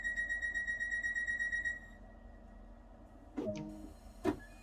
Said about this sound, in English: Let's close doors.